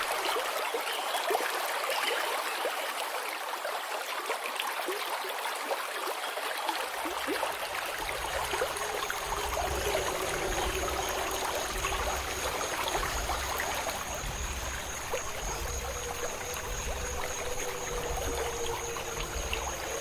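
River water flows at a bank as a boat reaches shore, a continuous broad rushing and trickling wash, with low rumbling and faint tonal hums joining partway through and no speech.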